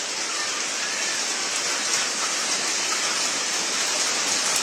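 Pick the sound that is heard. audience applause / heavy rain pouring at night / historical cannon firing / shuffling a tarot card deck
heavy rain pouring at night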